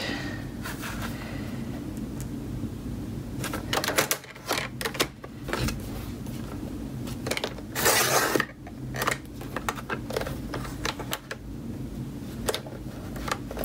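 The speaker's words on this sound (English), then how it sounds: "I'm gonna grab my trimmer for this" A paper trimmer slicing through thick craft paper for a junk journal, a series of scraping, clicking mechanical strokes with a louder grinding cut in the middle, close and without talk.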